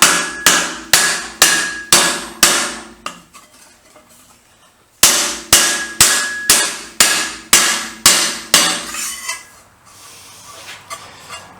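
Metal is hammered to reshape it with two bursts of about seven and eight sharp, evenly spaced ringing blows, each with a short metallic decay, separated by a brief quiet gap, close and loud.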